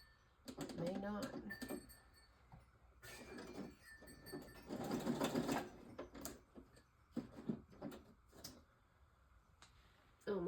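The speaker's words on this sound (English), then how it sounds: "It may not sew through this wax." A home sewing machine tries to stitch through wax, giving intermittent bursts of mechanical ticking and whirring, with pauses and someone talking in between.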